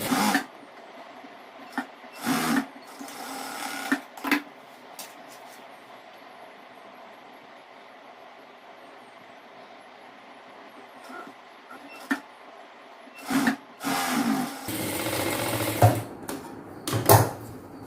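A sewing machine stitching folded fabric for a chudidhar gathering pant runs in loud, rapid bursts of clattering stitches, separated by long quiet pauses and clustering toward the end, close to the listener.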